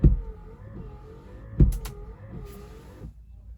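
A single windscreen wiper on a 2022 Citroen Ami sweeps back and forth with a whirring motor, each pass ending in a soft thump, about two full cycles, close and clear with no talk.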